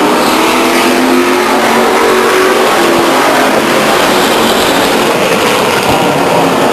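Race cars roaring around Stockton 99 Speedway, a dense, loud, continuous wash of engine noise from a pack of cars circling the track, heard up close with no gaps.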